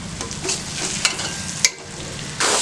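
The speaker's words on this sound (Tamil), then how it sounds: "லேசாக இப்படி திருப்பி விட்டோம்னா கொஞ்சம் முட்டை நல்லா வெந்துடும்" Egg sizzles steadily in a hot pan for rice, with a couple of sharp spatula taps and scrapes as it is stirred and turned, close and alone without speech.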